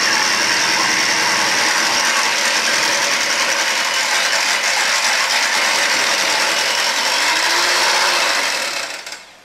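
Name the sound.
electric hand mixer mixing batter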